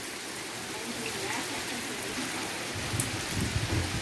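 Light rain falls steadily outdoors as a dense, even patter that fills the whole stretch, with no voices over it.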